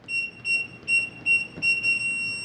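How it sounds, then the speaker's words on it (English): A Kwikset 914 SmartCode electronic deadbolt gives a run of short, repeated high beeps that ends in one longer sustained beep, close by and clear over faint background noise. "It's going to beep long at me like it just did."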